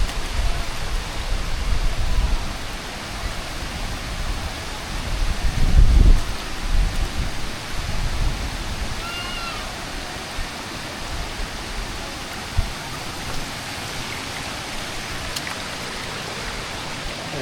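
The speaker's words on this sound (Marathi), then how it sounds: "आता सर्वात मोठा धबधबा दाखवतो तुम्हाला" Maruti waterfall at Chondhe near Shahapur, running low on water, gives a steady broadband rush of falling water from a middle distance, swelling briefly partway through, with faint bird calls over it.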